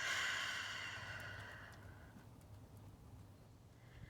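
A single audible exhale during a mindfulness breathing exercise, a soft airy sigh that fades out over a couple of seconds into quiet room noise.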